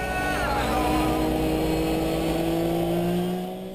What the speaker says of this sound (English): the cars coming out onto the grid with Bob Herber's BMW Z4 on pole for the first race